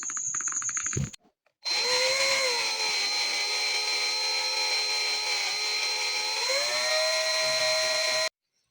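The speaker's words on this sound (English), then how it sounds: "now it's time to drill holes on these bolts for locking pins" An electric drill whines at a steady high pitch drilling holes through steel bolts for several seconds, its tone dipping briefly under load before cutting off abruptly.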